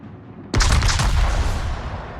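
A single heavy salvo from a Russian battleship's guns in a naval video game booms loudly and abruptly, then rolls into a decaying rumble.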